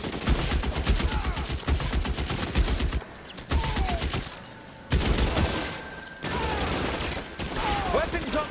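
Gunfire from the L.A. Noire video game, with bursts of rapid shots and booms clustered through the clip, broken by brief quieter gaps, mixed with other game effects and voices.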